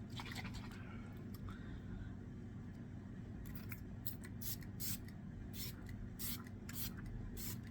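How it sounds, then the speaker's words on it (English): Several short, soft bursts of Dior Forever Perfect Fix setting spray come from a pump nozzle, clustered in the second half against a quiet room hiss, close to the microphone. "I think I'm going to do one more spray. I'm going to use the Dior Perfect Fix."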